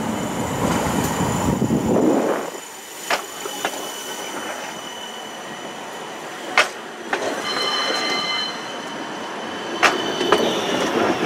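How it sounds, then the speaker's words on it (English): West Midlands Metro tram 33 pulls in at a stop in Birmingham with a steady rolling rumble, sharp wheel clicks over rail joints and faint high squeals, fairly close and continuous with no talk. "Here comes tram 33."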